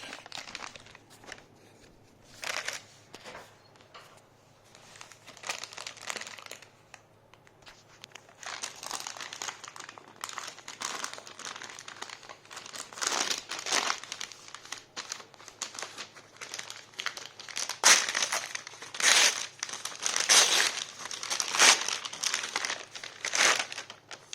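Packaging for an Amazon Fire TV Stick 3rd generation is unwrapped close by, with repeated crinkling and crumpling of paper and plastic in irregular bursts that grow busier and louder toward the end.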